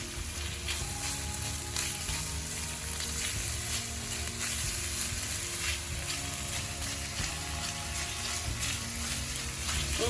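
Diced onions sizzle and crackle in a hot pan after garlic and ginger, for a beef and goat meat stir fry, a loud continuous frying hiss with occasional stirring scrapes, close up and without talk.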